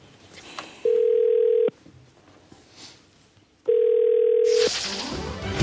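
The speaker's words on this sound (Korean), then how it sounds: "오늘 생생한 내부 이야기를 듣기 위해서 외부 자들에서 긴급 전화 연결을 해보도록 하겠습니다" A steady telephone dial tone sounds twice as an emergency phone link is placed on a Korean TV talk show, each tone lasting about a second, loud and clear, with quiet studio noise between.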